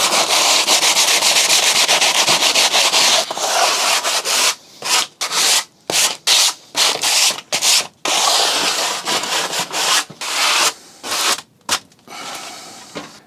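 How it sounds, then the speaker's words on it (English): Wood is sanded by hand with rough 80 and 120 grit sandpaper. Loud, close rubbing runs steadily at first, then breaks into quick back-and-forth strokes with short pauses. "Really rough sandpaper. 120, 80, that'll do."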